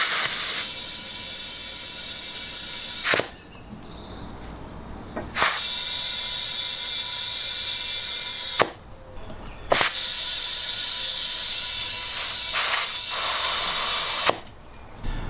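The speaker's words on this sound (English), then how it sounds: "I apologize for the noise of the air compressor if it comes on because it's right here next to me" Loud, bright hissing rushes of compressed air sit right beside a lawn tractor tire being reseated, in long bursts broken by brief pauses, with no talking.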